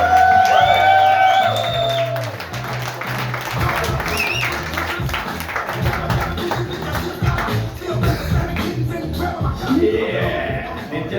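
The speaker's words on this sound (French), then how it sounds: "Commencez à l'applaudir, applaudissez!" A comedy club audience at a stand-up show claps and cheers loudly and steadily, with whoops and shouts over dense, continuous applause throughout.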